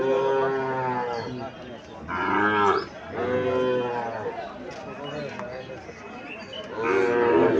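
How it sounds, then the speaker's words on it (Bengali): Heifer calves at a weekly village cattle market moo repeatedly in long drawn-out calls, close and fairly loud, with market chatter and voices murmuring underneath. "সুন্দর সুন্দর বকনা বাছুর, বকনা বাছুরের অভাব নাই।"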